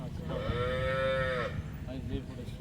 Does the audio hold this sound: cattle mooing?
yes